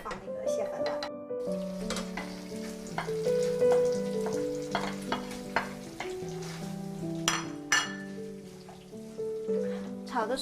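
Crab frying with ginger in hot oil in a pan, a steady soft sizzle running underneath while people talk over it, for a niangao and crab stir-fry.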